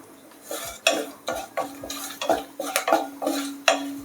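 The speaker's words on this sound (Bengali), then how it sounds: "কিছু সময় নেড়ে চেড়ে নিব।" Whole cardamom pods, cinnamon, cloves and bay leaves stirred in hot soybean oil in a pan for duck curry, with a series of metal spoon scrapes and clinks against the pot over a faint steady sizzle.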